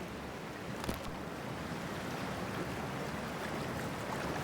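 Water splashing in the Cyberpunk 2077 video game, a continuous broad rushing wash of water with no pauses, with one brief splash near the start and no talking.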